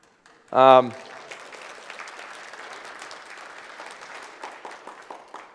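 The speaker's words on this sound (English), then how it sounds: "An applause there." Applause from a conference audience at a talk, starting right after a brief loud voiced burst, then steady, moderate clapping that carries on to the end.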